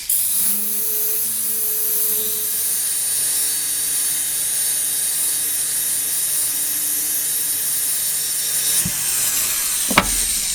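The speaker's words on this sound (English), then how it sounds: "These sanding discs work really good" A small sanding disc on a rotary tool grinds steadily against a wax carving tool, a continuous high whine with a rough abrasive hiss that holds for about nine seconds before a few brief sharp clicks.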